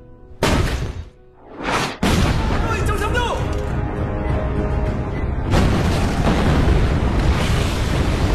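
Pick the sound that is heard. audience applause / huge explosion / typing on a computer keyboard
huge explosion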